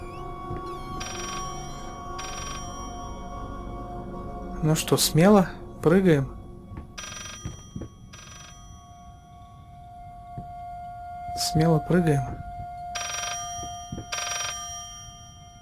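An old telephone rings in repeated short bursts inside the eerie house of the horror game Layers of Fear, sounding through game ambience while someone talks over it and his voice rises in places.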